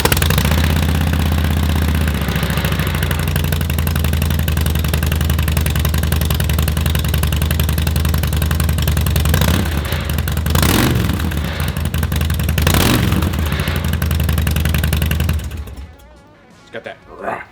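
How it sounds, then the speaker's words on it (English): A Harley-Davidson Dyna motorcycle with Screaming Eagle slip-on exhaust idles loudly and steadily with a deep, throaty exhaust rumble, with brief revs near the middle before it cuts off at the end. "this one has slip-ons from Screaming Eagle, so we're gonna go ahead and start it up"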